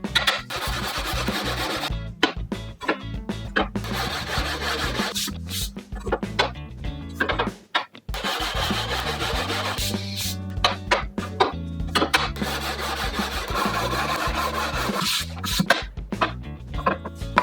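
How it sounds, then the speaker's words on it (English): An ebony guitar fretboard is sanded with 120-grit leveling blocks, producing repeated close rasping strokes in a steady back-and-forth rhythm, broken by a few brief pauses. "I have my leveling blocks here. They're 120 grit, and I'm gonna use them to sand this ebony."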